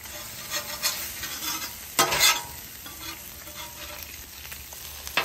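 Sausages sizzle and fry steadily on a Blackstone griddle, a continuous crackling hiss with occasional scraping as they are moved and a louder burst of spatter midway, with no talking.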